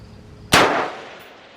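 Single rifle shot fired at a steel target plate outdoors, a sharp loud crack with a bright metallic ring that decays over about half a second.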